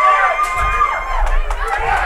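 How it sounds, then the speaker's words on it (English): Crowd shouting and cheering loudly during a brawl breaking out in the audience at a wrestling show, a dense roar of voices with overlapping yells. "We hear that brawl taking place throughout the crowd."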